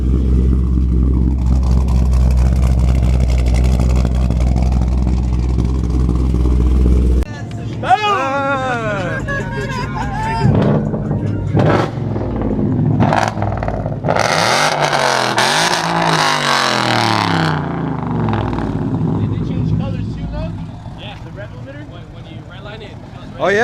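A Ford Mustang with a 5.0 engine and newly replaced headers idles with a deep loud drone, then revs repeatedly in swelling rising and falling bursts while voices chatter nearby.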